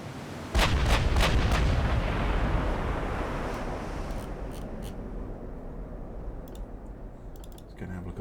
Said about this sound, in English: give our battleships a bit of gunnery practice